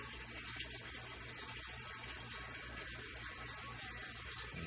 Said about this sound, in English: the tank on the left is just about stopped flushing